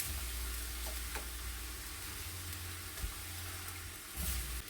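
Beef stir-fry noodles simmer in a pan with a cup of beef broth as they are stirred in, a soft steady sizzle and bubbling with faint scraping and light clicks, quiet and without speech.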